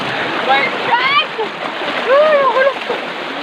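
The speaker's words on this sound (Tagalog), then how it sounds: "sobrang lakas ng current ng tubig" A strong current of clear river water rushes and splashes loudly and steadily in a rural barangay river, with high chirping voices or birdlike calls above it.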